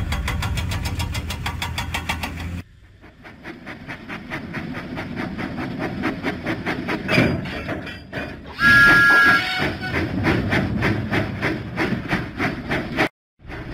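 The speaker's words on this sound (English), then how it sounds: "Thomas pumped his pistons and puffed out of the docks" Thomas the steam tank engine from the Thomas and Friends video game puffs out of the docks in steady, rhythmic chuffs, loud and close, with a brief whistle-like tone partway through.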